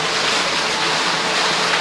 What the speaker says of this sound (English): Fountains, water, they help drown the sounds of the traffic out.